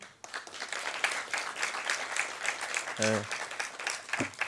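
Applause rises for the induna at a catchment-based indaba gathering, a crowd clapping steadily at moderate loudness, with a brief voiced sound cutting in near the end.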